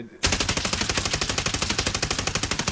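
Suppressed AUG rifle firing on full auto in Fallout 4, a rapid, even string of loud muffled shots bursting in after a brief silence and running without pause.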